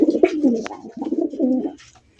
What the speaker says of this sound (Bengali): ওর খাঁচায় মাগার পাগলের মতো ডাকে